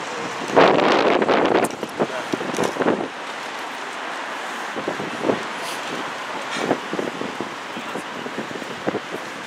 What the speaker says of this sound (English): It's windy as hell, brothers, man.